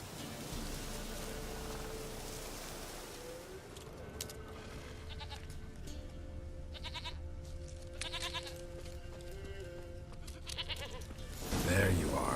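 A goat bleats in The Witcher 3 over a steady layer of rain and ambient game noise, with short repeated bleats in the middle and a louder burst near the end.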